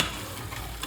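Oxtail stew with vegetables being stirred in a pot, a brief soft scraping and sizzling sound, close and faint with no talking.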